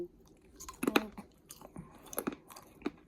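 A crunchy snack is chewed close up in crisp, irregular bites, with quiet crackling between the louder crunches and no talking.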